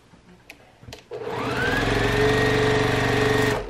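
A sewing machine stitching quilt fabric pieces together starts after a few soft taps, then runs at a steady, loud, even whir with a strong motor hum for a couple of seconds.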